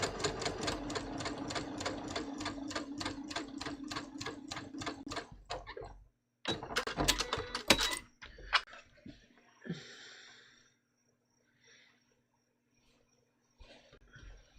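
A sewing machine stitches fabric at a stitch length of 3, a fast steady run of rhythmic needle clatter for about five seconds, then a short second burst, followed by quiet handling noises.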